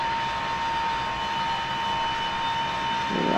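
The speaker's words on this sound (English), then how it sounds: "Now I can pull the aircraft" Boeing 727 airliner being pulled back by a pushback truck in a flight simulator, a steady jet engine whine and hum with a faint tonal note throughout and a slight rise in rumble at the end.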